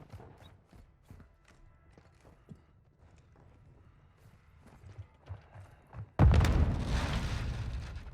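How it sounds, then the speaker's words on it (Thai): A loud explosion in Call of Duty Modern Warfare II DMZ erupts suddenly after several seconds of quiet game ambience with faint footsteps and clicks, then sustains a long, rumbling roar to the end. "เฮ้ยเสียงระเบิดจากไหน ข้างบน"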